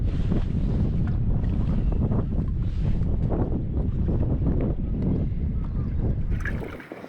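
North wind buffets a boat anchored in Loch Buie on the Isle of Mull, a steady loud roar of gusts and microphone rumble throughout, easing slightly at the very end.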